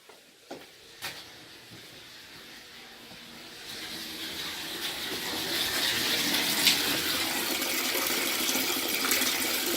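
Water drains from a hot water heater tank in a steady broadband rush, starting with a few faint knocks and drips and then building into a continuous hiss of flowing water that stays level to the end.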